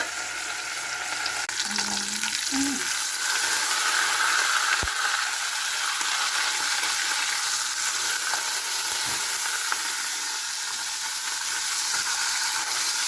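Pork chop frying under a lid in a pan for a creamy mushroom dish, a steady, close hiss and sizzle throughout with a few faint clinks.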